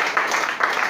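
A church congregation claps and applauds together during a worship service, a dense, fairly loud wash of hand claps lasting about a second.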